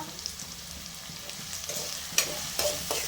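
Onion sizzles with salt in a pan while being stirred, a soft steady frying hiss with a few sharper scrapes near the end, fairly quiet and without speech.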